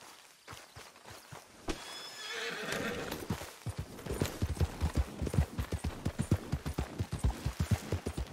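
A horse whinnies loudly in the Red Dead Redemption 2 video game, followed by a rapid, rhythmic clatter of hooves as it moves off at speed, with a busy background of game ambience.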